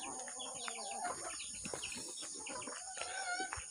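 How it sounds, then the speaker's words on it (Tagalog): A mother hen on a hillside farm clucks softly amid a busy mix of chicken calls and chirping birds, with a constant high insect-like whine over the rural scene. "ito nga pala yung inahin"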